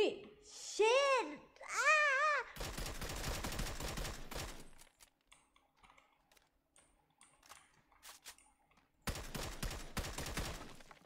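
Video game gunfire crackles in dense rapid bursts of automatic fire, a long volley followed by a late burst, with a young woman's excited speech and a wavering vocal exclamation at the start.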